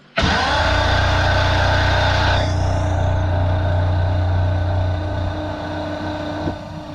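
A Jaguar MKII engine cranks on the starter without firing, a loud, close, steady churning whir with a rapid pulsing beat throughout, easing slightly toward the end.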